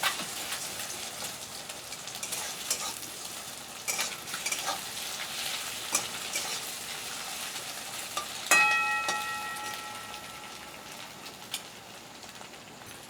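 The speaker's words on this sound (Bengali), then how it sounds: "তেল আমি ওখানে একটা ডিম ফাটিয়ে দিলাম" An egg cracked into hot oil in a pan fries with a steady crackling sizzle, punctuated by a few sharp pops and one louder spatter, close and clear with no talking.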